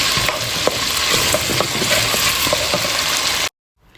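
Spices stirred through hot oil in a pan for a masala fish dish, giving a loud steady sizzle with scraping stirs throughout before cutting off abruptly near the end.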